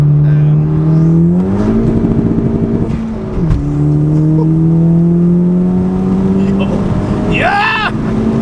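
Turbocharged 10th-generation Honda Civic Si with an upgraded turbo pulls hard in second gear, the engine note rising loud and close from inside the cabin, with a shift-like dip midway and a brief squeal near the end.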